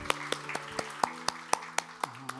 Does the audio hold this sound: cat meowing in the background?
no